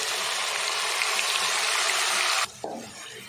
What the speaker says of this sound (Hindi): अच्छे से प्याज का पेस्ट भी हम भून लेते हैं